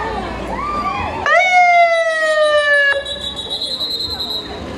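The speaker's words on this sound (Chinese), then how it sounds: "警车开路。" A police car siren leads a lantern festival parade, its loud rising wail starting suddenly over crowd noise and holding steady for about two seconds before cutting out, leaving the street chatter behind.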